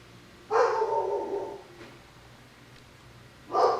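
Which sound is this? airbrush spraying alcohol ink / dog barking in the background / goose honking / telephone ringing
dog barking in the background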